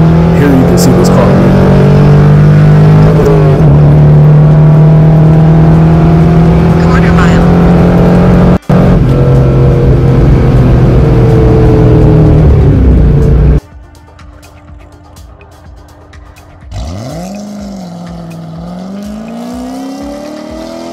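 A Corvette C5 Z06 V8 revs hard and accelerates, a loud roaring engine note climbing in pitch, then cutting to a quieter idle and a second rising rev.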